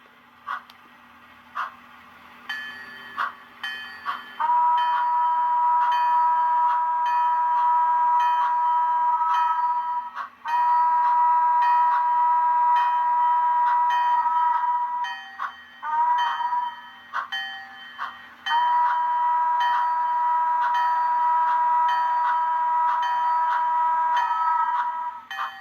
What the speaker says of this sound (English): the whole grade crossing sequence and everything with both the sound, the chuff, the bell, the whistle